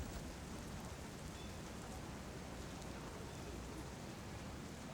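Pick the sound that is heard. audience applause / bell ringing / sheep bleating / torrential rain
torrential rain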